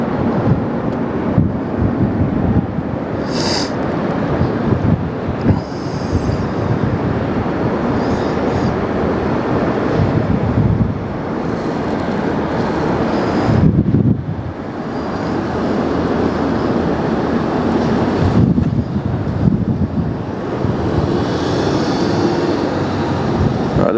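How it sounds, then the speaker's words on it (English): An Airbus A380 jet bound for Incheon takes off from LAX, its deep, rumbling roar loud and sustained throughout with slow swells in intensity. "Fantastic work there on the A380, lining her up on the runway."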